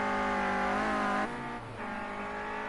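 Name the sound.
Clio Cup race car accelerating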